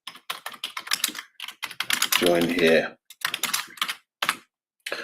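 A computer keyboard clatters in quick bursts of keystrokes while a person talks over much of it, with brief pauses between the typing runs.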